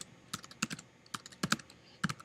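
Code is typed on a computer keyboard: a brief, close run of irregular key clicks in small bursts with short pauses between them.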